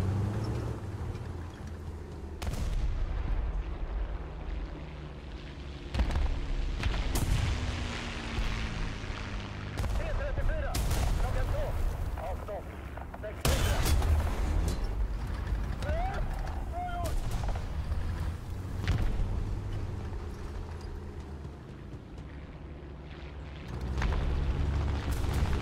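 Rapid gunfire from a meatball machine gun in a video game, dense bursts repeating over a steady low rumble with brief pauses, while players talk over it.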